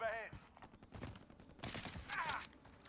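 Gunfire from LC10 and Kar98 weapons in a shooter video game crackles as faint, quick shots, partly drowned by a voice and other game sounds.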